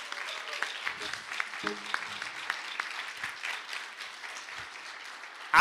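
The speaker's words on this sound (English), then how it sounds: "Can we get a round of applause for awesome Reverend Christine?" A church audience applauds Reverend Christine with moderate, steady clapping that goes on throughout, with a few louder claps standing out.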